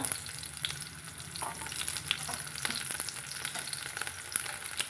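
Small whole shallots crackle and sizzle steadily in hot oil with lentils, a close, continuous frying sound marked by light scraping and stirring clicks.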